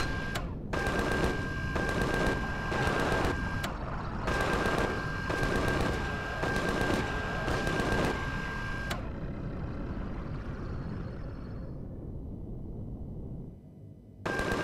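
Sustained gunfire in Empyrion Galactic Survival, long rattling bursts of rapid fire with short gaps over a constant whine, stopping abruptly and leaving a fading hum.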